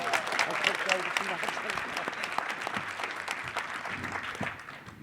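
Warm applause from a workshop audience at a convention, honoring a presenter named Debbie; dense clapping holds steady for several seconds, then tapers gently, with scattered voices underneath.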